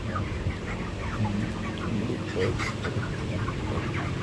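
Chickens cluck and chirp inside a poultry shed amid a busy, noisy background, with scattered short calls throughout.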